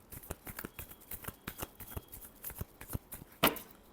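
A deck of tarot cards is shuffled close by in quick, repeated soft riffles and flicks, ending with one sharper, louder snap of the cards near the end.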